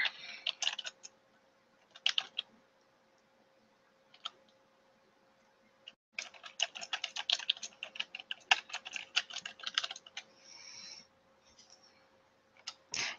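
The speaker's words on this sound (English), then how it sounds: "I'm just going to hit enter, and that will automatically generate my second choice" Someone types on a computer keyboard nearby, with brief bursts of clicking keystrokes followed by a longer run of rapid, uneven tapping, all against a quiet background.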